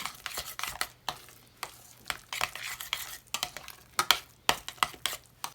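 Potatoes being mashed in a bowl make rapid wet squelches and scraping knocks in an irregular rhythm, fairly quiet and close, with no talking.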